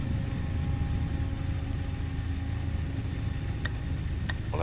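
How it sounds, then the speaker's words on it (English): An aircraft's left engine starting after priming, a steady low rumble building into a continuous mid-pitched running drone, with two brief sharp clicks near the end. "And there comes the left engine."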